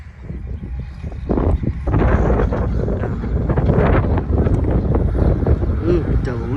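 Strong gusts on a dry, dusty, windy day before rain batter the microphone with a loud, continuous low roar that swells and surges throughout.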